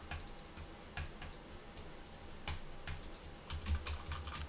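Typing on a computer keyboard into a notepad while testing a Fifine K658 microphone: quiet, close, steady clicking keystrokes in quick irregular runs, with no talking.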